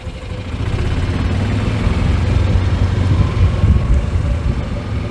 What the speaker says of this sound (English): Now I'll bet you're hearing our engine a little bit.